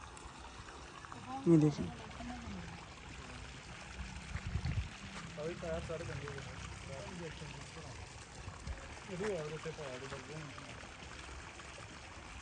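Irrigation water flows and splashes through a farm channel, a steady trickling pour running under close conversational talk.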